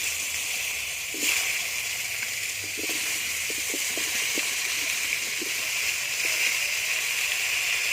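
Potato and cauliflower pieces fry in oil left over from frying fish, a steady close hiss of bubbling oil with faint scattered crackles and pops throughout.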